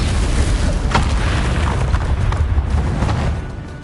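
A Confringo spell blast in a PS4 wizard-duel game, a loud booming explosion that rumbles on for several seconds with a sharp crack near the start before fading out.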